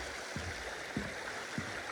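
A small creek beside a hiking footpath gurgles and trickles in a steady wash of water noise, with a few low rhythmic splashy pulses and no talk.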